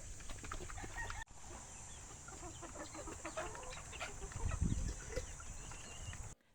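Hens cluck and murmur in scattered short calls while being fed, fairly close, over a steady background hum with no talking.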